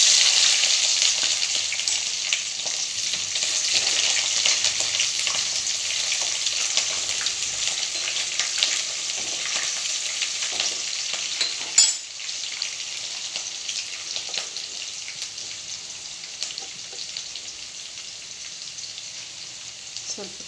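Onion frying in a pan gives off a continuous, even sizzle with faint crackles, a single sharp knock partway through, then softens slightly as it carries on close by.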